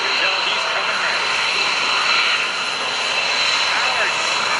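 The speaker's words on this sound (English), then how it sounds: "by a 1900 horsepower Wright R2600 radial engine." A Curtiss SB2C Helldiver, driven by a 1900-horsepower Wright R2600 radial engine, flies at a 2012 joint services open house, producing a loud, steady broadband roar that fills the whole stretch, with a voice talking underneath.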